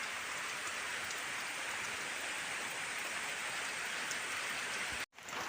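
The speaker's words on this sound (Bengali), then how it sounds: "মেঘে মেঘে অন্ধকার, বৃষ্টিটা ভালোই হচ্ছে কিন্তু বন্ধুরা।" Heavy rain pours steadily on a dark, overcast day in a rural home by a pond, a dense continuous hiss filling the scene close and loud, with a brief cut near the end.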